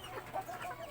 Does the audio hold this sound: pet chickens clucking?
yes